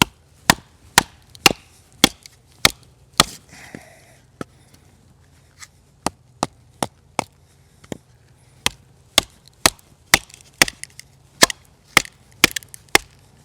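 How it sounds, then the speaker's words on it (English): A knife cuts slivers from a piece of wood, producing a series of sharp, dry cracks and snaps in an irregular rhythm, crisp and close against a quiet background. "If you listen closely, you can start to hear those tiny little cracks."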